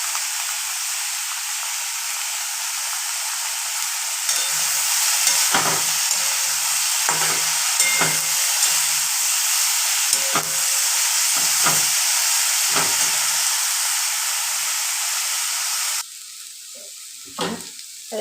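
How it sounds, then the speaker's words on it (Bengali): Eggplant pieces fry in a pan with salt and turmeric for a Bengali eggplant ghonto, making a loud, continuous sizzle with scattered utensil clinks. The hiss drops off sharply near the end. "এবারে বেগুনগুলো দিয়ে দিলাম, স্বাদ মতো নুন দিয়ে দিচ্ছি, হলুদ দিয়ে দিচ্ছি।"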